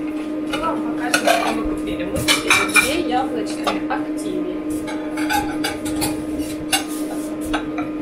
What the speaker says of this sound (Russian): Пока папа моет посуду